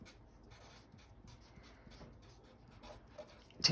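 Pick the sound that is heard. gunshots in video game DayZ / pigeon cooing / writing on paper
writing on paper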